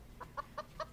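Farm chickens clucking in four short, evenly spaced calls, close but fairly quiet, against a low background rumble.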